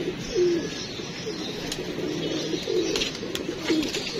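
Pigeons kept by a pigeon fancier coo in low, soft repeated phrases, three or four distinct coos spread across a few seconds over faint outdoor background noise.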